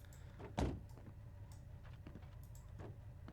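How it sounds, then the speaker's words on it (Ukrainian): A Lexus car door shuts with a single solid thump heard from inside the cabin, followed by a quiet interior hum. "Закрий двері"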